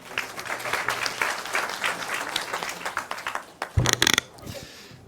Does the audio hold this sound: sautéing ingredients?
no